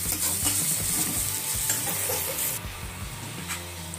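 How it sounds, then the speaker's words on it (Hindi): Chilies are stirred in a heated pan, giving a continuous sizzle and frying hiss with scraping stir strokes, close and fairly loud, easing slightly toward the end; no speech. "मिर्ची जो आप लोगों को दिखाई थी थाली में था वो सबको डाल के मिक्स कर रहे हैं"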